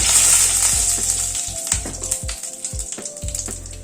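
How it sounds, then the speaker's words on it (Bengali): Cumin seeds and a bay leaf sizzle in hot mustard oil in a wok: a loud, steady, close frying hiss with faint crackles and low clatter throughout. "কড়াইতে আবার একটু সরষের তেল দিচ্ছি। অল্প একটু সাদা জিরে ফোড়নে দিচ্ছি।"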